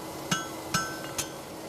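Three sharp metallic hammer strikes ring out on a horseshoe as its edges are chamfered, evenly spaced and close, each with a bright clinking ring that quickly fades.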